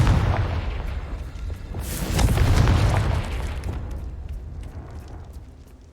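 Confringo fire spell explosion in Hogwarts Legacy: a deep, loud boom swells around the middle with crackling debris on top, then slowly decays into rumbling background noise.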